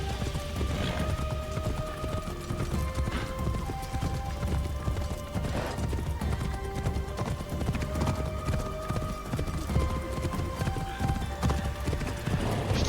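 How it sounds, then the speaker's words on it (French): Steady clip-clop of horse hooves trotting along in the video game Assassin's Creed Shadows, a continuous rhythmic patter with a brief whinny, over a dense backdrop of game music. "Il s'appelle Kiri du coup le cheval."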